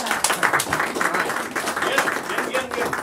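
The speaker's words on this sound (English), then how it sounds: "Round of applause." Audience at a realtors' meeting applauding a guest speaker's introduction, a moderate mass of clapping hands with a few loud individual claps, mixed with overlapping talk and cheering voices.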